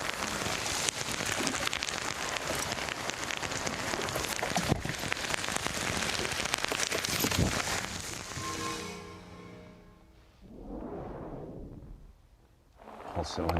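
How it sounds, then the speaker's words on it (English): Heavy rain pours down on Lake Murray during a bass fishing tournament, a dense, loud hiss for most of the stretch that then thins out, with a faint voice and other sounds in the quieter end. "Also in the downpour, Mike Iaconelli."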